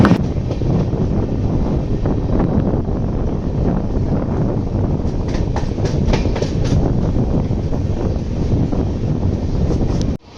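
A passenger express train on the Chennai to Varkala line rolls into a station, with a steady loud rumble and clatter of the coaches and some wind buffeting throughout, no voices.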